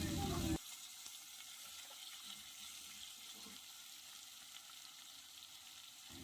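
Ridge gourd peels fry quietly in a pan, a faint steady sizzle and hiss following a brief louder burst at the start, with soft scattered stirring sounds.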